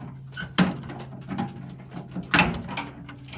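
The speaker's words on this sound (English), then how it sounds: "Door's opening. That's messing with the door mechanism." A microwave oven door being worked open during scrapping, with several sharp clacks and rattles of the door mechanism over a steady low hum, close by.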